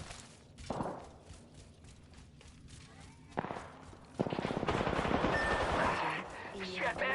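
Gunfire in the Apex Legends video game, with a couple of sharp isolated shots followed by a long rapid burst of automatic fire, loud and close, with a voice talking in the background.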